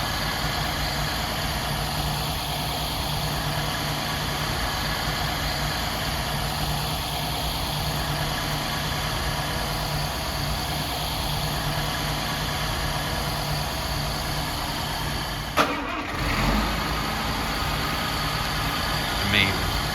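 A 1953 Mercedes Adenauer just revived and idling, a steady low engine drone throughout with a brief knock or bump near the end.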